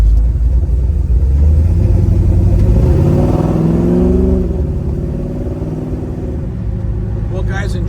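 A 1970 Chevrolet Nova's engine rumbling steadily from inside the car during a ride, with a rising rev that swells and then eases back, loud and continuous.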